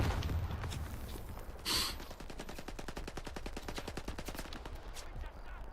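Rapid automatic gunfire from enemies in the video game STALKER 2, a fast, steady burst of sharp cracks lasting several seconds after a brief thud, loud and close with no talk over it.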